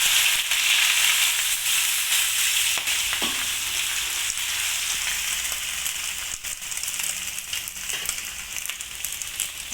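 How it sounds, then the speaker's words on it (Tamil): Anchovy powder fries in hot oil in a wok-style pan, a steady bright sizzle with crackling that fills the whole stretch, fairly loud and with no voices. "இப்போ நெத்திலி பொடியை பொரிச்சு எடுத்துக்க போகிறேன்."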